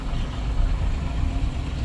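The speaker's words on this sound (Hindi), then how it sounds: "ये देखो बहुत ज़्यादा ट्रैफिक है।" Dense road traffic stuck in a jam near Vrindavan, a steady low rumble of idling cars and trucks close around, with speech-like murmur mixed into the continuous drone.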